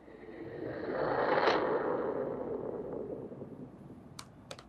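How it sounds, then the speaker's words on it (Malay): A bowl hit sound effect that swells into a broad, slightly explosion-like whoosh, peaking around a second in and slowly decaying, with a few faint ticks near the end and no talking. "Kemudian aku ada this bowl hit, yang mana dia bunyi dia macam ni."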